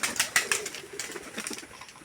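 Pigeons perched on tree branches inside a farm loft flap their wings in several quick bursts, close and fairly quiet, with light chirps and rustling between them.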